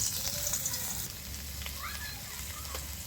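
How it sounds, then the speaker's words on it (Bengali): Soya chunks fry in white oil in a wok with a steady, close sizzling hiss that runs evenly throughout, with a faint voice-like murmur in the background. "তো আমি সোয়াবিনটা এইভাবে ভেজে নিচ্ছি।"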